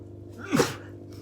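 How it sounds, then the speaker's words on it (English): A single sharp sneeze bursts out over a quiet background hum, brief and close. "Sorry, I'm going to sneeze."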